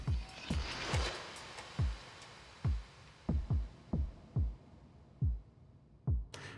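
Drum track from an instrument without dub effects: a sparse pattern of deep, dry kick-like thumps sounding alone at an uneven, loping rhythm, with a brief hi-hat-like hiss at the very end.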